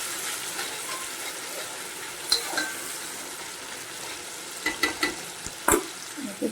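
Desi chicken fries with tomato and onion in a pan, giving a steady close sizzle. Scattered clinks and scrapes of stirring come through around the middle and near the end, with no voices.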